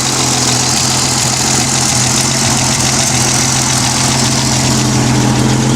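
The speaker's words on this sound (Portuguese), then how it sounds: "Imagine o som de um motor de 6 cilindros se aproximando, de madrugada, numa rua deserta." A six-cylinder Chevrolet Veraneio engine runs steadily with a low, even hum and rumble at constant loudness, with no voices.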